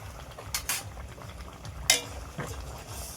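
A spoon stirs pabda fish curry in mustard paste in a pan, a few sharp metallic clinks and scrapes over a soft bubbling simmer.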